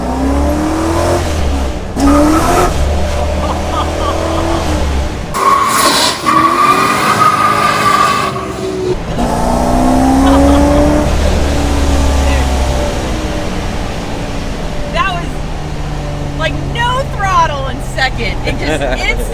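A supercharged 900 hp Corvette roars through hard accelerations, engine note rising in long revving sweeps as the tires break loose, loud and close from inside the car, with people talking and reacting between pulls.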